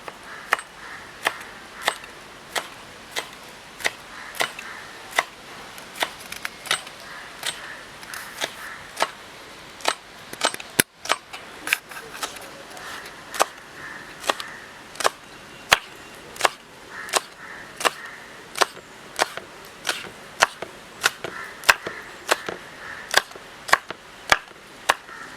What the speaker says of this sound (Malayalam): ഇനി പച്ചമുളക് എടുത്തിട്ട് ചെറുതാക്കി നുറുക്കുക.